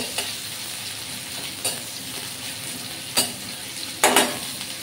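Chopped onion sizzles in oil with panch phoron, a continuous close frying hiss broken by several louder scrapes of a spatula stirring the pan, the last one heaviest.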